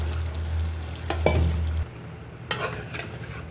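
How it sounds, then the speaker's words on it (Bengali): Vegetable stalks are stirred into fish broth in a pan, giving a few close scrapes and clinks of a utensil over a low hum, with a brief bump partway through. "সুরার সাথে ভালো করে মিক্স করে নিয়েছি ডাটাটা"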